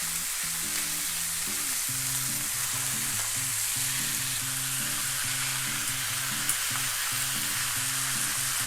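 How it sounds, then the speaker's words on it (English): Slices of pork belly sizzle in a pan over medium heat with a steady, even hiss, while soft music plays underneath. "Just make sure you cook until they're brown and crispy."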